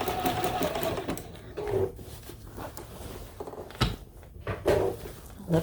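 A sewing machine stitches slowly over a seam in a Christmas tree quilt top with appliqué, giving a close, steady mechanical whir in short runs broken by brief pauses and light clicks.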